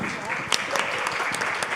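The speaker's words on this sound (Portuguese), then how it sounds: "Palmas para ela." Brief, moderately quiet applause from the audience in a sustainability session room at a conference, a short patter of clapping with voices faintly mixed in.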